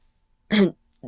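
One short, close throat clearing, followed a moment later by a brief, softer vocal sound.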